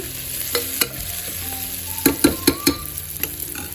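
Vegetable curry with tempering cooks in a pan, a steady sizzle under a run of sharp spatula scrapes and knocks against the pan, loud and close with no talking.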